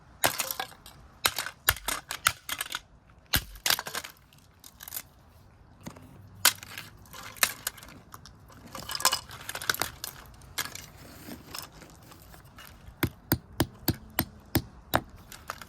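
A Timex alarm clock smashed apart, with repeated sharp cracking blows and clattering plastic fragments, irregular at first then a fast rhythmic series of hits near the end, loud and close.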